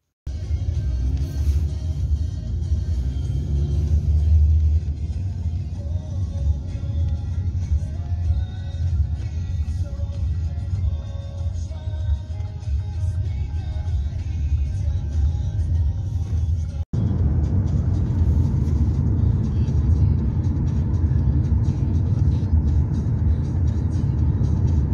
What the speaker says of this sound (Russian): вызываю такси и еду